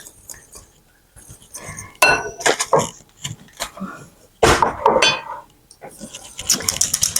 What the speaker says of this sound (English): Mixing these up in the bowl.